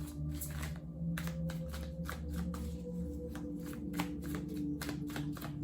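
Tarot cards being shuffled by hand, with rapid rhythmic riffling bursts repeating close up over a low steady background hum.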